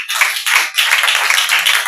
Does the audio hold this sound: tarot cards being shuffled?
no